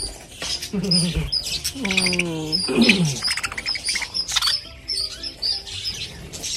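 Lovebirds at a farm giving close, repeated sharp chirps and short chattering calls, with faint rustling and pattering around them.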